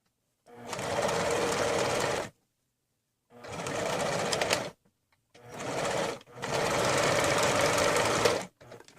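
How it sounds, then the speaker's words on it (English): A sewing machine stitches a second line inside the seam allowance of a t-shirt to reinforce the seams, running in four steady bursts of close, loud whirring separated by short pauses. "I like to reinforce my seams by sewing it again, just right inside the seam allowance"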